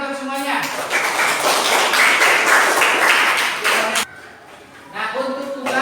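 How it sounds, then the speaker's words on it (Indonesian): A sixth-grade class at an Islamic primary school claps together during a fiqh lesson, a loud, dense burst of hand claps lasting a few seconds before a voice speaks. "Tepuk tangan untuk semuanya."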